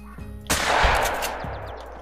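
A 12-gauge pump-action shotgun blasts once at a turkey in TheHunter: Call of the Wild, a sharp, loud report with a long rolling echo that fades across open hunting ground.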